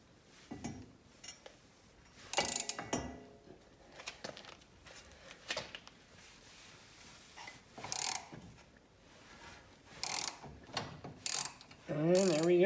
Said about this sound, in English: Now we can use our ratchet to remove the tie rod.